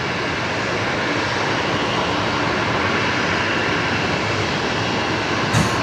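Rescue aircraft 533 moving on the ground at Brisbane Airport, a steady, fairly loud engine roar and broadband whoosh that holds evenly throughout, with a brief extra burst near the end.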